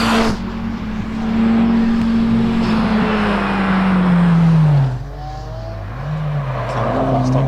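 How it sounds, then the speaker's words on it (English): A Datsun 1600 race car climbing a hill at a hillclimb event gives a loud, close engine howl that sweeps steadily down in pitch, drops off, then picks up again. "Coming up the hill now is Reese in his Datsun 1600."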